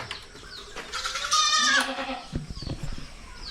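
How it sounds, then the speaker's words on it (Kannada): Young goat kids bleat close by on a small farm, one wavering cry rising loud in the middle, followed by shorter, softer bleats and shuffling. "ಇನ್ನು ಅಲ್ಲಿ ಆಡು ಮರಿಗಳು ಇದು ಮೇಲು ಅದು ಫೀಮೇಲು"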